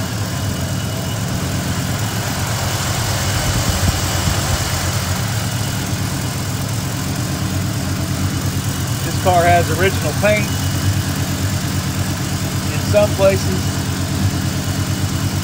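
A 1973 Dodge Dart Swinger with a 318 V8 idles steadily with a low, even rumble throughout, while someone talks over it nearby.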